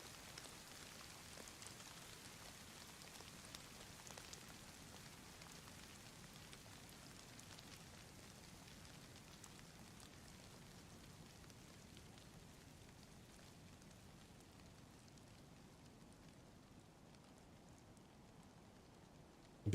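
Steady rainfall in the video game DayZ, a soft continuous patter and hiss of drops that holds evenly throughout, quiet and without voices.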